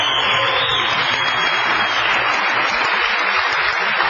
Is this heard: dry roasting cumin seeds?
no